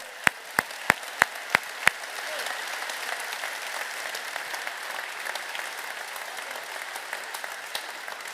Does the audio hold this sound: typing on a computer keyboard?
no